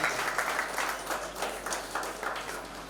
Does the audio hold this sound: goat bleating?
no